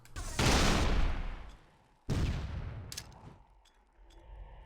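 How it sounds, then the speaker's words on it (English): A Hunter enemy in Halo CE fires fully automatic: two long, loud roaring bursts of heavy plasma fire, each fading out, followed by a few fainter clicks and shots. "That's a fucking hunter shooting at me. At fully auto."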